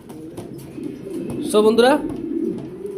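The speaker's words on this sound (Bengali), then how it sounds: "ফ্রেশ কন্ডিশনের এক পেয়ার কবুতর নিয়ে আসলাম" A pair of Afsan silver pigeons coo in a short rounded burst partway through, close and clear, while someone talks over a steady background hum.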